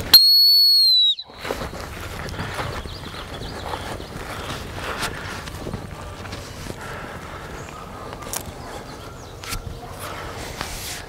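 A dog training whistle blasts once, loud and sustained, about a second long, during duck dog training outdoors; a dog's steady footsteps and movement follow after it.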